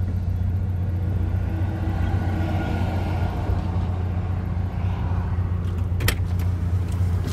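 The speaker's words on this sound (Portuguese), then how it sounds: "Esse carro começou a dar problema. Acho que... Ele tá engasgando, velho. Tá perdendo a força na subida." A car engine sputtering and losing power while climbing a hill, a steady low rumble heard from inside the cabin with faint rattles and a brief sharp clatter near the end.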